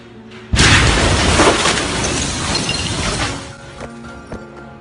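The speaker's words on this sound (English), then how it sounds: "The explosion was caught on camera 11 kilometers away in the Dabia Marina." A massive port explosion in Beirut, recorded about 11 km away at a marina, hits as a sudden loud broadband boom that holds as a long roaring rumble before slowly fading, with no talk.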